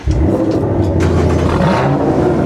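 Several cars start up and rev together at the Nürburgring, a loud, steady engine roar with rising revs filling the whole stretch, close by and with no talking.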